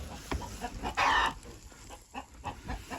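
Chickens in a coop make soft clucks and one brief, louder squawk, heard close and fairly faint against a quiet background.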